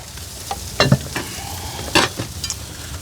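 Burnt ends of brisket sizzling in a pan as they are stirred, with a steady close frying hiss broken by several sharp scraping stirs.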